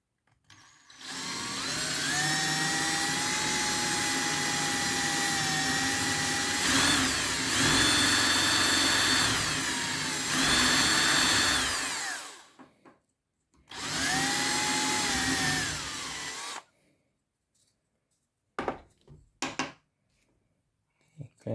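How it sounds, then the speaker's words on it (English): A power drill bores into wood while building a table saw jig: a loud, close, whining run of about twelve seconds, then a shorter second burst, followed by quiet knocks and handling sounds. "I'm just gonna drill"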